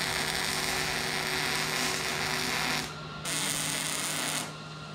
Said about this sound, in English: Now I'm gonna turn the welder up a bit and actually weld it up